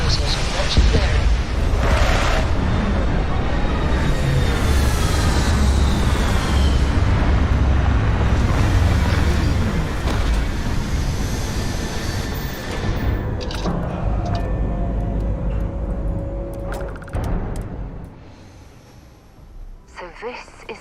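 Spaceship touching down in Starfield, a heavy rumbling roar of thrusters that swells and holds, then thins out and fades toward the end, with radio-style voices talking over it.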